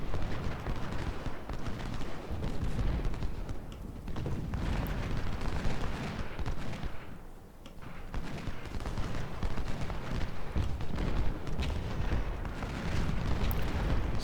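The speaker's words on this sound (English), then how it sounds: "There's a lot of cannon over here" Civil War artillery batteries in the Ultimate General Civil War battle at Brock Road, a dense rolling barrage of cannon booms and musket volleys overlapping continuously, with a brief lull midway.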